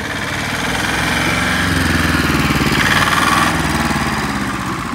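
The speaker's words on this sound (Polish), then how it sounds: "Kolega ma taki traktorek na sprzedaż," A small red tractor's engine runs steadily and loudly close by, a throbbing mechanical drone with a rapid knocking pulse that holds throughout without speech.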